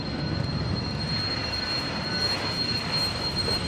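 An Embraer Phenom jet at Boeing Field sends out a broad, steady engine rumble and roar from a moderate distance, with a thin high whine running through it and no talk over it.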